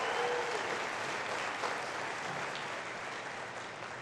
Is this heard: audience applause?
yes